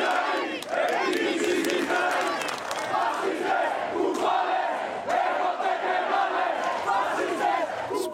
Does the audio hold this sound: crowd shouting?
yes